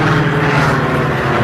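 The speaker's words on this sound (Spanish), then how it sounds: "El motor fallando hacía que el descenso fuera entorpecido" Failing light aircraft engine as the plane loses altitude in a radio drama, a loud continuous propeller drone with a low buzzing hum that holds steady throughout, with no voices.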